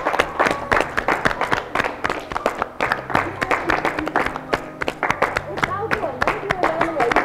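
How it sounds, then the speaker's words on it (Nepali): An audience claps in sharp, dense bursts at a blind-date show grand finale, a rapid, uneven patter of hands running throughout, with voices talking and chanting over it. "ताली मार ताली मार ताली ताली मार ताली मार मार ताली"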